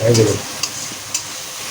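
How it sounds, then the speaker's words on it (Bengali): Chicken with panch phoron stirred in a frying pan, a soft sizzle with two brief scraping clicks of the spatula, close and moderately loud. "একটু নাড়াচড়া করতে হবে"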